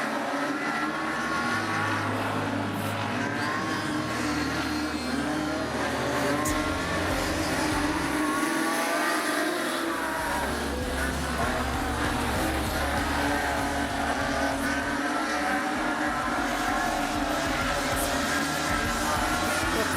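Super street sedans race around a speedway track, their engines a continuous distant roar with shifting revs as the pack passes, and faint crowd or commentary ambience underneath.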